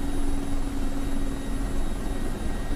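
A Mi-24P Hind helicopter in the DCS World flight simulator, its rotor and turbine noise a steady, loud, continuous drone with a constant tonal hum through the whole stretch.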